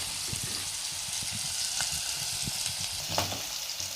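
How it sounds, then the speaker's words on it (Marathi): Onions with ginger and garlic frying in oil for a pea and potato curry give a steady, close sizzle, with scattered soft pops and stirring taps. "कांदा. यांना 1-7 मिनटं थोडंसं तेलामध्ये घ्यायचं."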